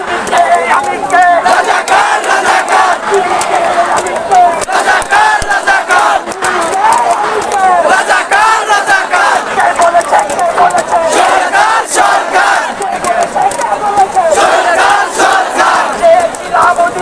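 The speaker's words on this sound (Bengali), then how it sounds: "এখানে ছাত্র থেকে ছাত্রীরা বিভিন্ন ধরনের স্লোগান দিয়ে তাদের মনোবল চাঙ্গা রাখার চেষ্টা করছে" Students and schoolgirls chant slogans in a loud, dense crowd at a complete shutdown protest in Khulna, voices rising and falling in continuous rhythmic shouting with no break.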